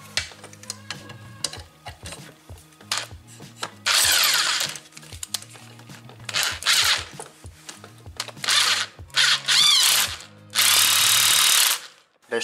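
A power driver with a socket adapter runs a screw into the seat frame of a Peugeot 306 driver's seat, with short bursts of buzzing motor and ratcheting clicks separated by pauses, loud and close.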